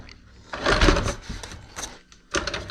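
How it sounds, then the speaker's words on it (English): A chop saw slices through a foam speaker panel in a workshop, giving two loud bursts of cutting noise with a quieter whir between them. "Chop saw."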